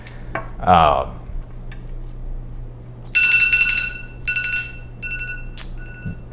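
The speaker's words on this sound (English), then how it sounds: "That's my alarm." An alarm goes off in a quiet room as a bright electronic beeping tone sounding in repeated bursts, fairly close, after a brief burst of a voice.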